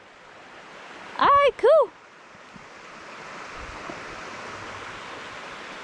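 Steady rushing water of a creek on a nature trail hisses softly in the background, while a person speaks two short words early on over the flow.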